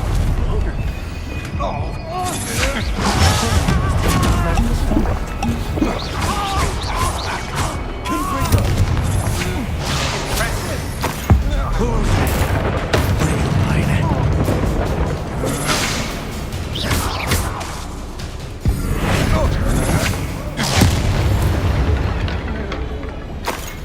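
Spell explosions from Bombarda and Confringo in the Hogwarts Legacy video game, repeated booms and crashes in a dense, loud battle mix with constant effects throughout.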